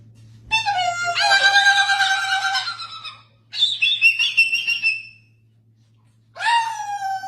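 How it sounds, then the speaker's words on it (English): Two cockatoos calling back and forth in a peekaboo game, giving harsh whistled squawks in three separate bursts with short silent gaps, close and fairly loud, over a faint steady hum. "we got two cockatoos who are playing peekaboo"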